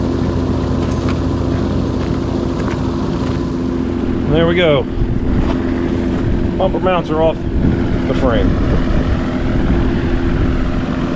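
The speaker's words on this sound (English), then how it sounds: "that sound you hear over there is my airplane fan. Keeps me cool." A large airplane-style shop fan runs with a steady, loud droning hum throughout, with someone talking briefly over it.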